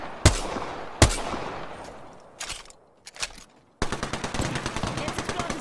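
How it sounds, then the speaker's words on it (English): Apex Legends gunfire: two loud single shots, a few scattered cracks, then a rapid automatic burst of evenly spaced rounds, punchy and close. "I'm getting shot at."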